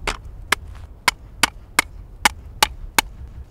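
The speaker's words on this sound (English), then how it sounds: "I can also use my adze by flipping this just upside down" An ice axe adze flipped upside down hammers a metal snow anchor into snow, eight sharp, evenly spaced knocking strikes in a steady rhythm, close and loud, with no talking.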